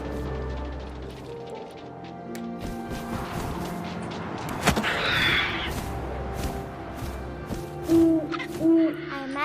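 An owl in the video game What Remains of Edith Finch gives a few distinct low hoots near the end, set over layered game ambience with a sharp crash partway through.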